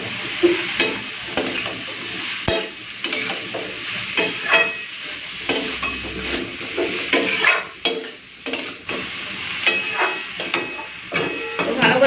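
Spices with dried chili powder fry in a pan over a steady sizzle, broken by repeated sharp clicks and knocks of a spatula stirring against the pan throughout.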